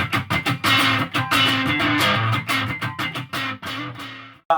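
Munson Avenger S-style electric guitar played in a room, rhythmic strummed chords with sharp choppy attacks and brief gaps, ending abruptly.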